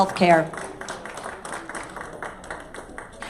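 An audience at a healthcare partnership event applauds, a scattered patter of clapping that follows a brief spoken word and carries on at moderate level.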